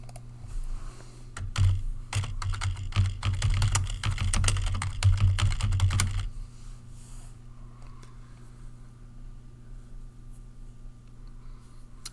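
Computer keyboard typing while entering an expense description, a dense run of close clicking keystrokes for several seconds that then stops, leaving a quiet low hum.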